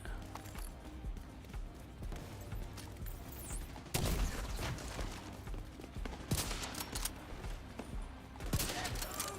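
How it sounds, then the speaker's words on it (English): Gunfire in The Division 2, a burst of shots after a quiet stretch, with several sharp cracks rising over continuous game background noise. "Just take a quick pause before I shoot."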